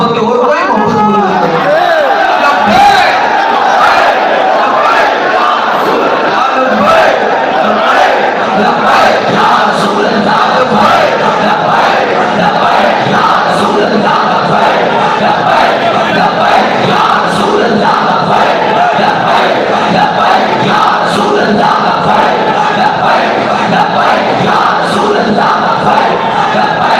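A large crowd at a Tehreek-e-Labbaik Pakistan gathering chants religious slogans in loud, massed unison, the voices surging and repeating in waves that fill the whole stretch without a break.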